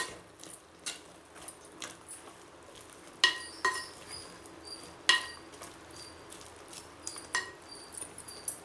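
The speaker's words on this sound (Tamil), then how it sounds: "2-3 முறை இது மாதிரி கலரி விட்டுக்கோங்க" A utensil stirs Kalavai keerai greens cooking in a pot, making repeated light metallic clinks and scrapes in an uneven rhythm, close and moderately quiet, with no talking.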